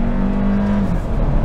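A 2022 Hyundai Kona N Line compact SUV accelerates with a steady, loud engine drone whose pitch climbs and then dips slightly, as if through a gear change, with no talking.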